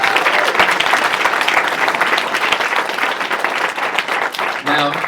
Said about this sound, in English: So a round of applause, please, for our newest author.